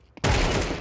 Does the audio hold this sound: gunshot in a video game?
yes